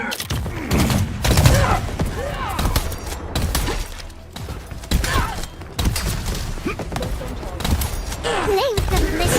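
Long-range gunfire in a video game crackles in repeated bursts and scattered shots, with thumps and shattering mixed in, running steadily under overlapping voices throughout.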